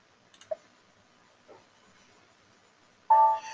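A few sharp clicks from a mouse or keyboard Enter key while saving data in SAP software, spaced out and faint, followed by a brief brighter electronic tone near the end.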